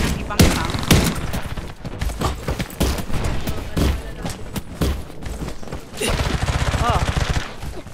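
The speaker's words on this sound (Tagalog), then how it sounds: "May bumabaril na sa akin." Rapid gunfire in a video game battle royale match, dense bursts of shots and automatic fire cracking close and loud throughout, with people talking over it.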